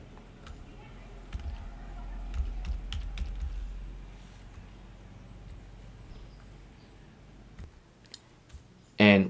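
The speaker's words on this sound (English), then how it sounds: "Now make sure you select a proper password." Typing a password on a computer keyboard, a run of quick irregular key clicks at close range with a brief louder clatter near the end.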